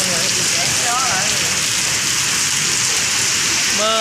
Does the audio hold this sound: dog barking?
no